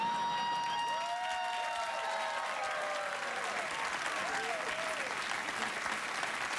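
A late-night television studio audience claps and cheers in a steady burst that fills the room, while a voice can be heard over the applause.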